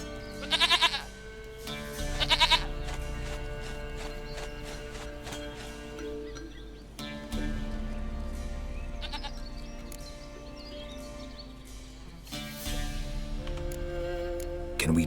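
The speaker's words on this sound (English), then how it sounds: "Goat of mine, dearest, sweetest goat." Goat bleating in The Witcher 3 video game: several loud, close, wavering bleats come in short bursts over a steady game soundscape, with gaps of ambient noise between calls and no talking.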